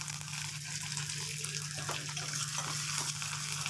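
Curry leaves and dried red chillies sizzle in hot tempering oil, a steady broadband crackle with a low hum beneath and a few sharper pops, with no talk.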